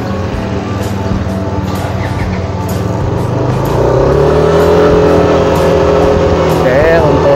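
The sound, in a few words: Yamaha motorcycle engine accelerating from a start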